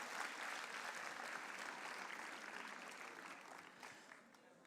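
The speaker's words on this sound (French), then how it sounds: "applaudissez-les" Audience applause at an awards ceremony for a youth mini-enterprise festival: a steady wash of many hands clapping, moderately distant and fairly quiet, tapering slightly toward the end with no talk on top.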